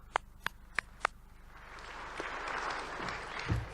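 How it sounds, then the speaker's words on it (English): Four sharp, separate claps from one person ring out first, then a modest, scattered round of applause from a conference audience builds and carries on at a fairly subdued level. "That's a pretty weak round of applause."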